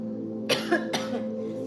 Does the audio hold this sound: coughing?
yes